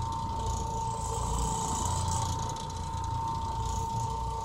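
An orbital carpet cleaning machine runs at about 1,725 RPM, a steady close mechanical whir with a sustained tonal hum and a rattling texture, with no talking.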